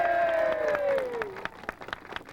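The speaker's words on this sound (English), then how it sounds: "How about a round of applause for Roy Denniston?" A short burst of audience applause for a stepfather at a morning press event, clapping and scattered cheers rising under a fading speaking voice, then thinning into separate claps.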